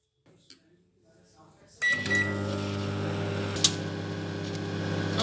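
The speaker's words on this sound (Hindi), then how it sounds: "माइक्रोवेव के अंदर से कुछ आवाज़ें आ रही है। मूंगफली के रोस्ट होने के लिए चटकने की आवाज़ें हैं वो।" Microwave oven running with peanuts roasting inside, a steady loud electrical hum starting after a near-silent opening, with a few faint crackles and a brief sharp pop partway through.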